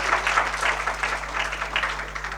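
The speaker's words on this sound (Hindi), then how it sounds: "जोरदार तालियों के साथ अभिनंदन और स्वागत।" An audience at a Nehru Children's Day prize ceremony applauds to welcome the chief guests, a dense, steady wash of clapping over a low electrical hum.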